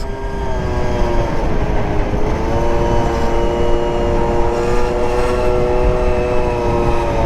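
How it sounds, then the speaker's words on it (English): Yamaha Super Zuma two-stroke scooter engine droning steadily while riding, a loud continuous whine with harmonics that rise and fall slightly as speed shifts, no talking. "I pollute the planet with my two-stroke"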